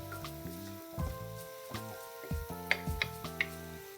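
Garlic and crushed red pepper sizzle softly in a pan as they are stirred, a steady low frying hiss with small clicks under louder background music.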